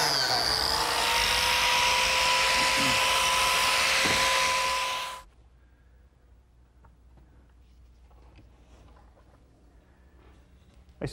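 Power driver sinking screws into the end panels of a wooden dresser, a loud steady high whine for about five seconds that stops abruptly, then quiet workshop handling noise.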